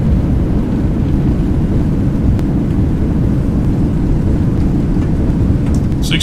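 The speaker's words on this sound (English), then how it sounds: "Alright, reversers are out." Loud, steady low roar of an airliner's thrust reversers deploying on landing in X-Plane 11, a Toliss A321neo, filling the whole stretch with a dense rumble and no letup.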